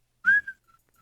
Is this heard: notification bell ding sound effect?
no